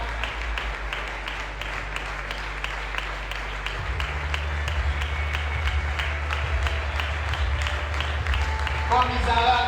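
Applause from a wedding congregation welcoming the bride at a nuptial ceremony, steady clapping throughout with a low hum underneath that swells near the middle, and a voice or music emerging at the end.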